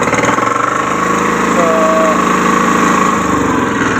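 A small engine on a dump truck runs at a steady, throbbing idle close by, continuous throughout, with someone speaking briefly over it.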